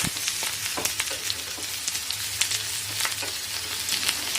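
Cucumber fries in oil on a dosa pan for Mangalore cucumber sambar, giving a constant close sizzle dotted with small pops and crackles, with no talking.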